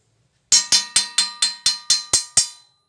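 A metal object is struck eight times in an even, quick rhythm, each hit a sharp, bright clang that rings briefly before the next, close and alone.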